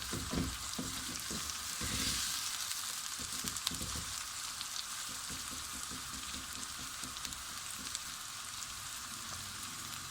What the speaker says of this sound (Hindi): बाल्टी गोश्त के लिए प्याज को बहुत अच्छे से सुनहरी ब्राउन करना है